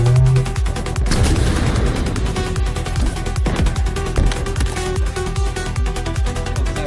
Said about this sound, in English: This is a job for a rocket launcher.